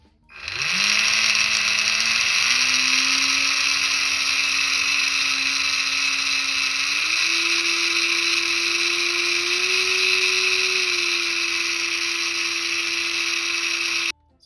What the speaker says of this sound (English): if I pull through full throttle on and then turn this dial up, you'll see the speed increase